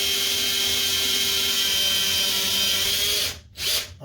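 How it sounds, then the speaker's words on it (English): A power drill with a 1/8 inch bit bores pilot holes into a wood door, a steady loud high-pitched whine running several seconds before it briefly cuts out, then spins up again for a moment. "And then I need to drill my pilot holes there."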